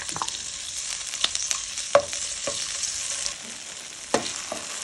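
Tofu is stir-fried in a hot pan while cooking pink fried rice noodles. It gives a constant soft sizzle, with a few distinct clinks and scrapes of the utensil against the pan spread over several seconds. No one speaks.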